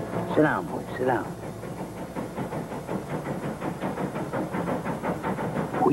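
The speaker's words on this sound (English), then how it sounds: "Well, that's our train." A train rumbles past with steady rhythmic clacking of wheels on rails, a few voices speaking over the noise near the start.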